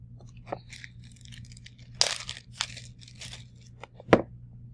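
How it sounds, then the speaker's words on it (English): A paper towel being cut in half with scissors gives a few sharp, separate snips and crinkles, close by over a low background hum in a workplace. "It may be a little too big, so I'm going to go ahead and cut it in half."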